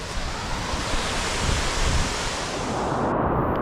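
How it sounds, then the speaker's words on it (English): Rushing water at the top of a Scottish waterfall where the flow funnels through one narrow channel, a steady loud roar with wind buffeting the microphone. "This is the top of the waterfall. It all funnels through one little bit and then gets scattered."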